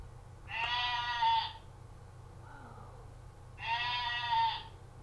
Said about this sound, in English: I think that is a goat.